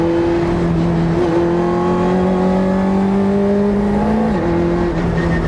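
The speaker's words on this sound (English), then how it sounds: "Oh yeah, the response from that engine is perfect." A 1999 Lotus Elise Sport 160 engine holds a steady, loud rev, its pitch rising slowly then dipping briefly before climbing again, close and continuous.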